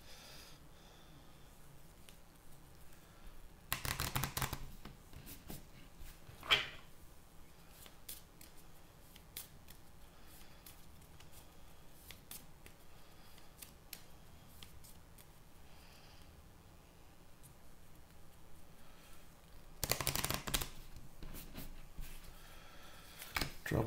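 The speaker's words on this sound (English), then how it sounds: "and then I got to shuffle." Game cards for a solo Marvel Legendary session are shuffled by hand. Two loud riffles come well apart, with quieter rustling and card handling between them.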